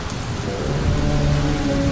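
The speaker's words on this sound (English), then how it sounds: "There is a storm outside and the ship is going to be torn apart." A thunderstorm with heavy rain, a loud dense roar of rain on surfaces with a deep rumble of thunder rolling beneath it, constant and close with no voices.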